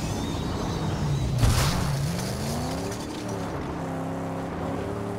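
A vehicle driving in the Mad Max video game, its engine droning and rising in pitch with revving shifts over a constant rumble and no talk.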